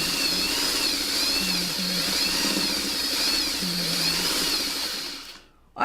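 A sewing machine stitches a quilt block in a steady, continuous whir with a fast mechanical buzz, running close and loud for several seconds before stopping abruptly near the end.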